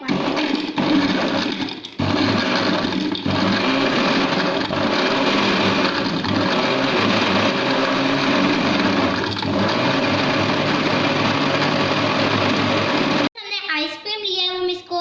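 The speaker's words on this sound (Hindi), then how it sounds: "अब हम इसको ब्लेंड कर लेंगे।" A kitchen blender whirs steadily at full power for about thirteen seconds, blending iced cold coffee, then cuts off abruptly as a voice briefly speaks.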